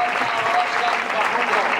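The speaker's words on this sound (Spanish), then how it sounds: "Un aplaudiment per ell." A brief burst of steady audience applause for a player at a youth football club season presentation, dense even clapping throughout.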